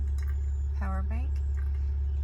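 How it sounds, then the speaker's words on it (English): A car engine idles steadily in the background at a camp, a constant low hum under a voice speaking close by. "you can probably hear my car running in the background"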